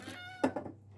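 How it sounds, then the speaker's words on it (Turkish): A cat meows once, fairly close, a short bright call trailing into a softer second note, heard alone against a quiet room. "Şu an miyavlıyor"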